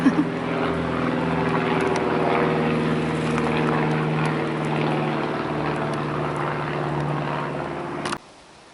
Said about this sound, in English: Except for that airplane.